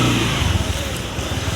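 A motorcycle being ridden outdoors, a continuous close engine drone heavily buffeted by wind, loud and unbroken throughout.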